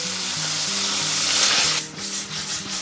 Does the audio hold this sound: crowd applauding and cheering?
no